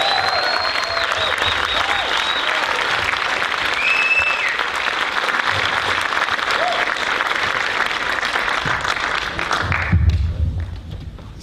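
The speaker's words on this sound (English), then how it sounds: "huge, huge, huge round of applause for the one and only" A theater audience in Australia claps and cheers loudly and continuously for a guest speaker, with scattered whistles, before the applause fades out at the end.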